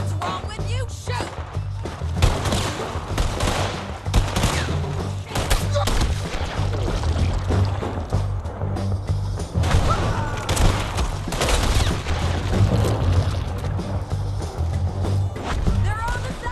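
Dense gunfire in Red Dead Redemption 2, rapid overlapping rifle and pistol shots cracking loudly and continuously across a ridgeline shootout, with shouting voices mixed under the barrage.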